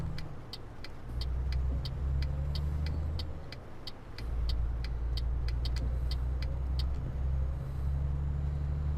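A Volvo FH16 truck engine in Euro Truck Simulator 2 pulls a 22-ton trailer uphill with a deep, steady diesel drone that dips briefly at gear changes, while a regular ticking clicks along on top.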